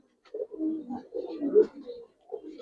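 Giribaz pigeons coo close by in a run of low, throaty, rolling calls with brief pauses between phrases.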